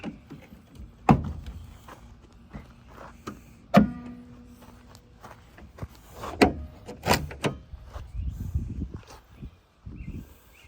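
Locked back door of a rusty 1972 Plymouth Cricket being tried: a handle is tugged, giving scattered sharp clicks, rattles and clunks with quiet gaps between, close up and moderately loud.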